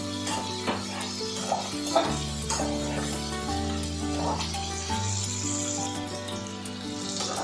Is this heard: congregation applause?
no